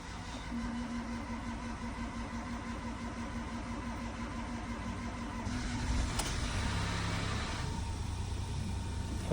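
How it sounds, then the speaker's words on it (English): A Ford 1.0 EcoBoost car engine starts after a wet timing belt replacement and settles into a steady mechanical idle. Its note rises and thickens partway through as it runs on, loud and close. "The time has come to start the car."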